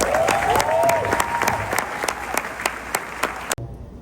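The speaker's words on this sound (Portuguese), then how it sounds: "Salve de palmas" Loud, close applause from an event crowd in Brazil, dense clapping with distinct sharp claps and a faint whistle early on, cutting off abruptly just before the end.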